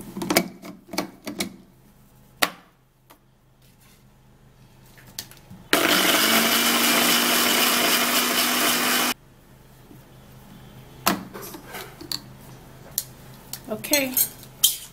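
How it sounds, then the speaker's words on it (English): A blender whirs loudly for a few seconds as it blends drink ingredients with water, starting and stopping abruptly, with kitchen clatter and scattered knocks before and after. "I will blend it."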